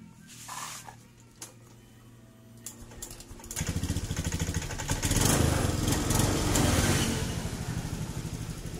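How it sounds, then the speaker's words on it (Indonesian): A Honda Beat injection scooter, a Scoopy/Beat type prone to sputtering when throttled, is started: a few faint clicks, then the engine catches and settles into a loud, steady buzzing idle close by. "kita akan coba hidupkan dulu untuk motor ini"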